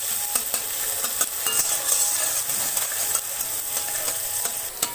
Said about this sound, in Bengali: পেঁয়াজ কুচোনোটা ভালো করে ভেজে নিব, ব্রাউন কালার করে ভেজে তুলব